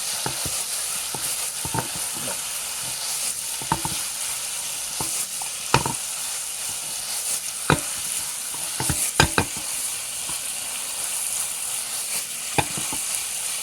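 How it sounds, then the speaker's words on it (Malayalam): Fried chicken for Indo-Chinese dragon chicken is stirred in a sizzling pan, with a steady frying hiss and repeated sharp scrapes and clacks of the spatula, close and fairly loud, and no talking. "ഫ്രൈ ചെയ്ത് വെച്ചിരിക്കുന്ന ചിക്കൻ ഇതിലേക്ക് ഇടുക അപ്പം ഇങ്ങനെ ഇളക്കി കൊടുക്കുക"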